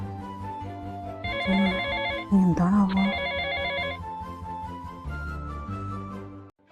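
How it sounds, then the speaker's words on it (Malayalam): A phone ringtone plays a bright, repeating electronic melody, loud and close, over a low steady hum. "ആരാ വിളിക്കണേ ആ ബെല്ലടിക്കണ്ട്"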